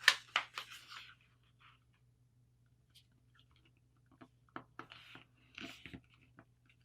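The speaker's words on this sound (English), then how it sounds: "flip it over and fold your other side to match" Paper is folded and creased for a dart-style paper airplane: crisp rustles and sharp creasing crackles come in short bursts close by, with a quiet pause between them.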